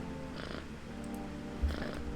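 A cat in a horror video game purrs softly and steadily while being petted, a low continuous rumble with a slight swell partway through, heard alone without talk.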